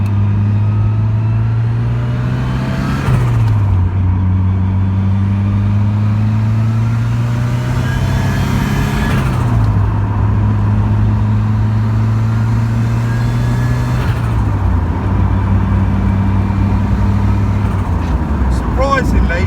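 A Ford Sierra RS Cosworth 3-door car drives along with a steady, loud engine drone heard from inside, rising in pitch through each gear and dropping at the shifts.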